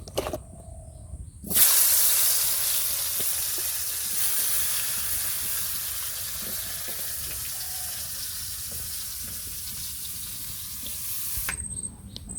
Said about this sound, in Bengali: কাঁকড়টা ভাজা দেব একটু হলুদ লবণ মাখিয়ে নিচ্ছি কাঁকড়গুলোকে